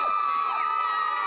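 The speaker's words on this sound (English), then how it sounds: "Give me a big cheer!" Elementary school children cheer loudly at a holiday food drive event, a dense, sustained crowd roar with shrill voices and whoops running throughout.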